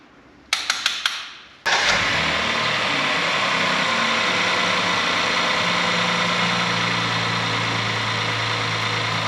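A car engine cranks briefly, catches and settles into a steady, loud idle after an engine oil change, a continuous rumbling hum that runs alone without speech.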